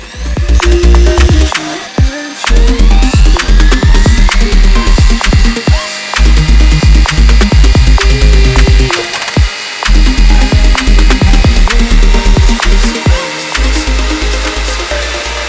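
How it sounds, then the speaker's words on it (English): A small drill-powered mini saw buzzes loudly through wood in repeated bursts, its motor pitch dropping under load between brief pauses. "I then powered the drill and used it to cut the edge that I didn't need."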